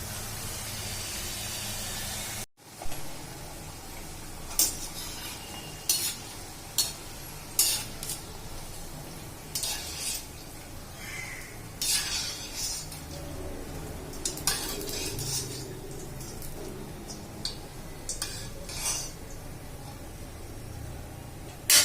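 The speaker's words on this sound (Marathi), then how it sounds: "मीडियम गॅस करूनच तळायचा" Kapanya sweets deep-frying in oil over medium heat, a steady low sizzle broken by scattered light clinks and scrapes of a utensil against the pan.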